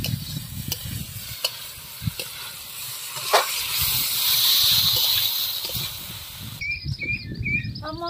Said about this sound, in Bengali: এরপরে দিয়ে দেবো হলুদ, দিয়ে দেবো লবণ পরিমাণ মতন। এবার আমি ভালো করে কষিয়ে নেব।